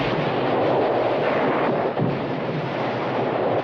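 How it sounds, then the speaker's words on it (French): Dense, continuous explosions and heavy artillery-like blasts fill a Normandy landing battle scene from a war film, loud and sustained with no pauses. "Fuller montre le désordre, la démesure de l'événement, les explosions"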